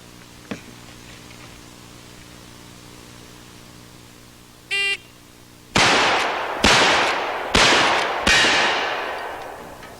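Four loud lever-action rifle shots crack out at fairly even intervals, each followed by a ringing decay, after a brief electronic timer beep; a faint thump is heard earlier, and no one speaks.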